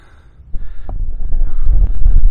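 Wind gusts rumble low and steady across the microphone outdoors near Settle, building after a quiet start into a continuous roar.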